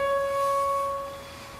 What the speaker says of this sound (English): this is the sound of the OH stretch translated into the audible